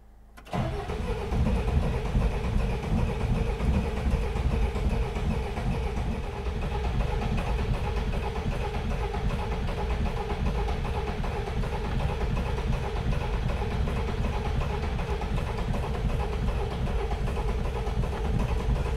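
The engine of a rusty, non-running classic Peugeot 404 pickup cranks and turns over continuously after a brief quiet start, with a loud, close, rhythmic churning that keeps on without settling into a steady idle.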